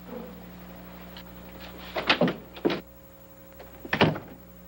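An office door in a 1949 suspense radio drama opens and shuts: a few knocking thumps around the middle, then one firm closing thud, against a quiet background hum with no talk.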